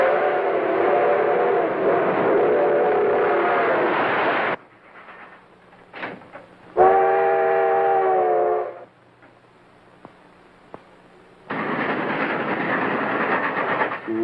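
A train runs on the rails in a 1938 crime drama, a loud steady rumble with tonal horn-like wails, breaking into quieter stretches with scattered clicks before the rolling noise returns.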